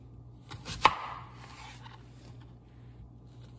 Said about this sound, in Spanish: Las cebollas las picamos en cuatro, de esta manera.